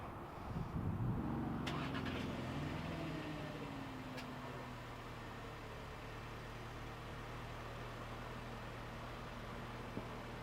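2019 Volkswagen Jetta engine starting: a short starter whir that rises and settles into a steady low idle hum, heard close and alone.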